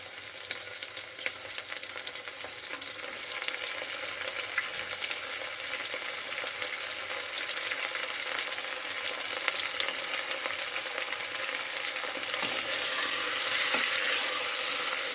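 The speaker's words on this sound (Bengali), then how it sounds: "মাংসটা দিয়ে আমি প্রথমে কষাবো তেলের মধ্যে" Mutton sautés in hot oil for biryani, a steady close sizzle and crackle with occasional stirring that holds evenly and swells slightly near the end, with no talking.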